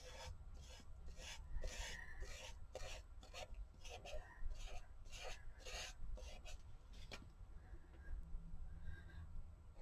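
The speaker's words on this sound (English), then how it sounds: "Just sitting here and rubbing it because somehow it feels like that would help." A hand rubs a coated surface in repeated short rasping strokes, close and fairly quiet, in an uneven back-and-forth rhythm.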